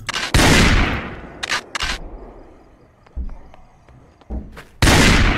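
Gunfire in the Project Zomboid survival game: two loud, sustained blasts at the start and end, with a few shorter, quieter shots and clicks in between, no talk.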